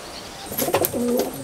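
Pigeons in a loft at Falta, South 24 Parganas, give a short, soft cooing call, a few throaty notes close by over faint background noise.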